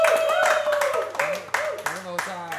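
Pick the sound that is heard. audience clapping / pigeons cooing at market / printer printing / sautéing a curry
audience clapping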